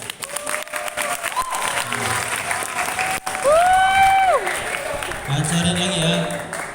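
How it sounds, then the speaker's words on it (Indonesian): Students and staff clapping at a school's Ramadan boarding-program closing ceremony, a moderate burst of applause mixed with voices and sliding electronic or whistle-like tones, fairly close and busy. "Tepuk tangan."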